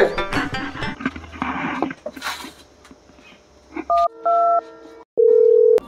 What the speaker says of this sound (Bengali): আমি একটু জামাইকে কল করছি বাইরে।